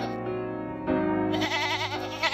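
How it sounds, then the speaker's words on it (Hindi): A goat bleats loudly and insistently at a market, several wavering, strained cries following one another close up with no voices over them. "उसकी नजर एक बकरी पर पड़ी जो कि बहुत जोर जोर से चिल्ला रही थी"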